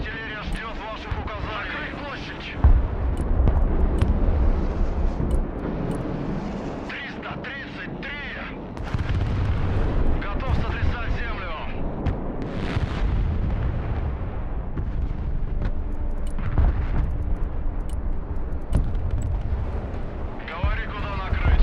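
Rocket artillery fire and explosions in the Broken Arrow war game, heavy booming blasts and rumbling impacts rolling one after another, with voices talking over the battle throughout.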